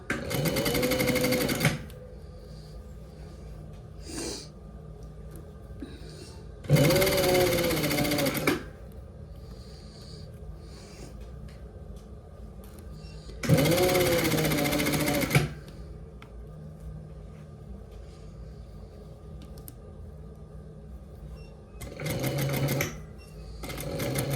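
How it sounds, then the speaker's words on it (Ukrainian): An overlock sewing machine runs in loud close bursts of about two seconds each, stitching the shoulder seam of a fleece hoodie with a three-thread stitch. Four separate runs are separated by quiet handling pauses. "Так, і прокладаємо шов."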